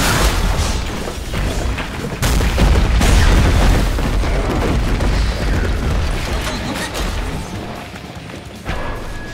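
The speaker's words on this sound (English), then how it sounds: "Dire's top tower has fallen." A tower collapses in the video game Dota 2: a loud, booming crash bursts out partway through and rolls into a sustained rumbling wash of destruction noise, with other game sounds before and after.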